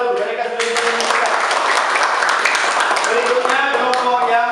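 A classroom group claps for a team that has just presented its conclusions, a brief burst of many hands applauding while voices carry on over it.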